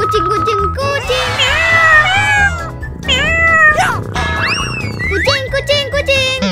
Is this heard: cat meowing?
yes